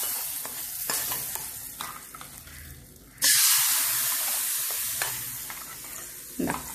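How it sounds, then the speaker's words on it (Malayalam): Mustard seeds fried in hot oil are poured into a moru curry of yogurt, bringing a sudden loud hiss and sizzle that slowly fades after some quieter stirring clinks, with no talk. "കടു വറുത്ത് അതിനകത്തേക്ക് ഒഴിച്ചു കൊടുക്കാം."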